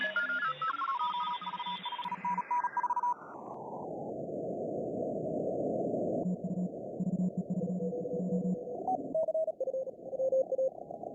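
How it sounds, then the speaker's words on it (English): A Morse code CW signal on an amateur radio receiver, tuned from a cluttered band of several tones down into a steady hiss where a thin, faint keyed tone pulses in on-off dots and dashes over continuous static. "Is that noise data or CW? It's Morse code."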